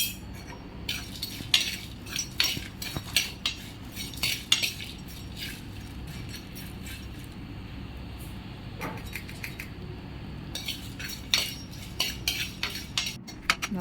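Masala roasting in a pan for a mutton fry, stirred with a metal spoon, giving irregular close clinks and scrapes against the pan over a soft background hiss.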